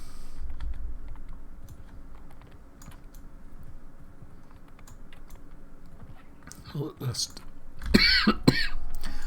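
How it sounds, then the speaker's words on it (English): A couple of harsh coughs near the end, close and fairly loud, following a stretch of quiet background noise and faint clicking. "My apologies for this cough"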